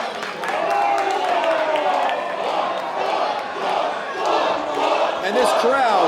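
A wrestling arena crowd cheers loudly for the big man Boar, sustained shouting and roaring that swells and dips in waves, with a commentator's voice partly under the noise.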